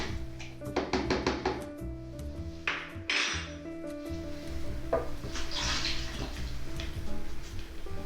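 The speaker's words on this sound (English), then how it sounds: "Now we're gonna just dump the water in here." Water is dumped into a bowl of rye flour for sandwich bread dough, a splashing pour under a steady musical backing, with clinks and knocks from the bowl near the start.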